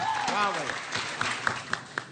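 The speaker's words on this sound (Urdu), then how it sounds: "بجاؤ تالی" Brief applause in a studio during a cricket talk show, a short burst of claps that thins into a few scattered, sharp single claps, with a voice speaking over the start.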